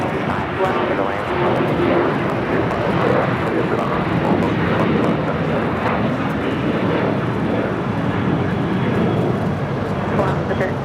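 A Nippon Cargo Boeing 747-8 lands at LAX on runway 25 left, a loud, continuous broadband roar of jet engines that holds steady throughout, with voices talking over it.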